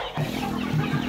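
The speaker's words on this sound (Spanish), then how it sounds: "Kiara, una hermosa gallina milflor, papuja coquetona, en manto negro con blanco" A Millefleur hen clucks in short, low bursts, close by, with a faint farmyard hum underneath.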